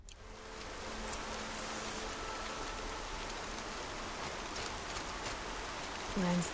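Steady rain falls in the open world of the video game Horizon Zero Dawn, a constant soft hiss of drops across the whole stretch, with faint rustling and a brief low thump near the end.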